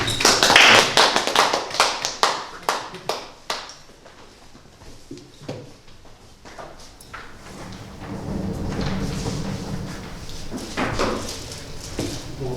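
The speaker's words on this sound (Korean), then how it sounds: "김동건 목사님 모실 때 박수로 환영하겠습니다" Audience claps to welcome a pastor at a church study gathering, a burst of sharp hand claps that thins out and fades within a few seconds, followed by quieter room noise and faint shuffling.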